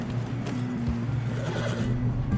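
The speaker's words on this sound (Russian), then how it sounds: "А, вот моя лошадь, точно." Horse neighing in the video game Red Dead Redemption 2, a low drawn-out whinny with snorting and light hoof movement, near and clear over a quiet background.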